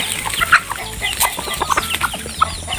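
Several chickens cluck repeatedly in short, scattered bursts at close range, with a busy outdoor farmyard background.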